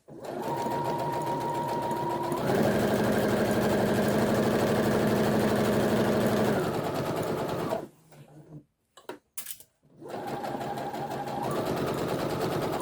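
A sewing machine stitches a seam on a fabric tote bag with a 1.5 seam allowance, humming steadily and loud for several seconds, then pausing briefly with faint handling noises before the motor whirs up again.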